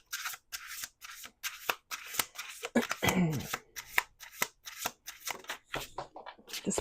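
Playing cards riffle-shuffled in a rapid series of crisp bursts, the deck bridged and shuffled repeatedly at close range while a person talks between shuffles.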